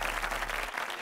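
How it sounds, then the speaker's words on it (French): A group claps at the end of a boxing training session, a short dense burst of applause. "On peut venir s'applaudir."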